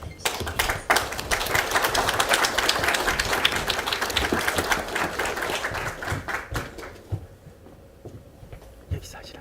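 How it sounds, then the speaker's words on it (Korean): An audience applauds to welcome a lecturer at a history lecture in Daejeon. The clapping is full and sustained for several seconds, then thins out and tapers into near quiet toward the end. "큰 박수로 모시겠습니다"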